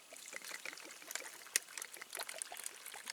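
Water pours from a canteen into an MRE bag, a soft close trickle and splash with crinkly spattering, faint and continuous with no talk.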